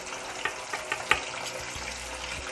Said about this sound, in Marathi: And we'll fry the marinated fish.